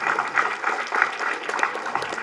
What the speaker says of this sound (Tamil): சாதாரணமான பெரிய கைத்தட்டல் கொடுங்க